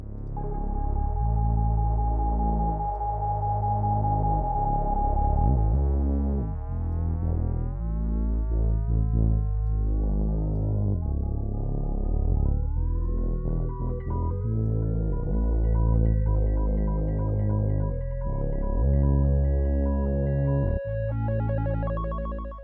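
Osmose synthesizer track playing solo with tonal pad and lead notes, a pitch bending upward as aftertouch kicks in partway through, and smooth sustained layers throughout.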